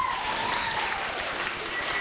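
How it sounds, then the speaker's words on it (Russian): A studio audience at a TV show finale claps steadily, with dense, even applause filling the whole short stretch and no pause. "Аплодисменты."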